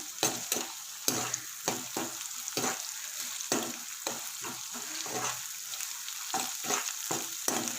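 Ginger and garlic fry in a pan for a curry, a soft, steady sizzle cut by frequent sharp scrapes and clatters as a spoon stirs the pan.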